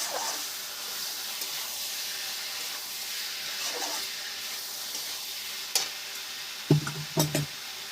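Vegetables and bori fry in hot oil in a Bengali vegetable-and-bori curry, giving a steady soft sizzle throughout, with a few sharp clatters of stirring near the end.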